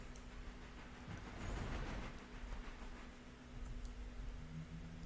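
Long freight train rolling in the Railroader video game, a steady low rumble with a sustained hum and faint clicking of wheels over rail joints, swelling and easing slightly as it passes, with no voices.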